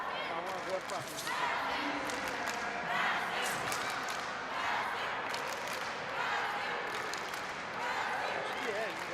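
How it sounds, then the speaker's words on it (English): Spectators at the World Wushu Championships cheer and clap for a taolu broadsword athlete, a steady, fairly distant crowd roar with swells of applause running beneath commentators' talk. "He's a crowd favorite if you can't hear that behind us. And it's not only his own team that's cheering for him too"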